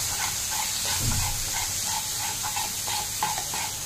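Bombay duck jhuri fries in a pan while being stirred: a steady close sizzle and hiss with soft, repeated scraping strokes.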